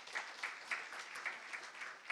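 Audience applause at a French corporate event staged as a mock trial, with a steady wash of distant, fairly quiet clapping and a few louder claps standing out.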